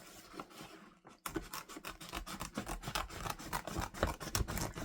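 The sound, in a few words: trimming fabric off with scissors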